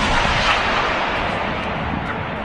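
Loud, continuous rumbling gunfire and blasts from a Ukrainian army attack on a Russian boat carrying soldiers in Mariupol, dense and sustained with no pauses.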